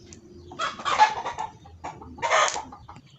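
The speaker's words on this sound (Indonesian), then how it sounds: "maaf ya suara ayam mengganggu" Chickens clucking close by in two loud bursts separated by a short gap, with no talking.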